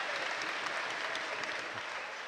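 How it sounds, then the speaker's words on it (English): Applause from Knights fans at a York Knights versus Bradford Bulls rugby league match, a steady distant crowd clapping that carries evenly from start to finish without a break. "a big round of applause from the Knights fans"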